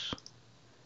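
One crisp, close computer mouse click sounds near the start, followed by a couple of faint ticks against a quiet room background.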